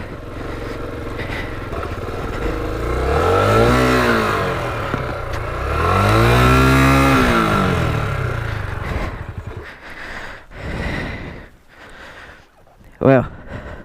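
A Beulah XR250L dual-sport dirt bike revs loudly on a gravel trail, its engine rising and falling in two surges before cutting out, followed by scuffing and clattering as it slips and goes down, with a brief sharp knock at the end.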